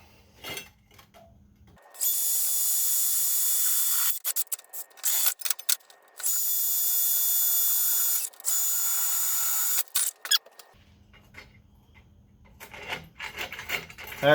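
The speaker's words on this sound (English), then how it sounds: "Time to drill." A power drill bores a hole through a metal bike rack for a tail light mount, a loud sustained high grinding whine in several long bursts with short pauses, close up and with no talk.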